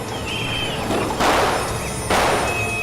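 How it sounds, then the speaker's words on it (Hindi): Two sharp, loud cracks of gunfire ring out about a second apart, each trailing off in a brief echo, in a crime drama scene. "सर गोली चलने की आवाज।"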